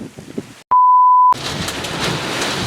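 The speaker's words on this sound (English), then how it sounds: "It's starting to rain. I'm hearing thunder." Heavy wind-driven rain roars loudly and continuously during a severe thunderstorm, broken briefly by a steady electronic beep, with no voices.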